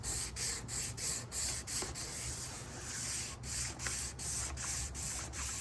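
A guitar finish being hand-sanded with 320-grit sandpaper, close rhythmic back-and-forth rasping strokes in steady repeated bursts, with no talk.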